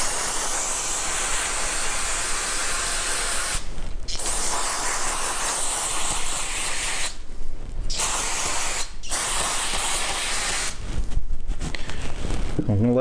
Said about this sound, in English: we're going to wash this off real well with brake clean